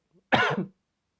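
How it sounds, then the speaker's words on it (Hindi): A single short, light cough, close and clear, in an otherwise quiet moment. "मुझे पता नहीं क्यों हल्की हल्की खांसी आ रही है।"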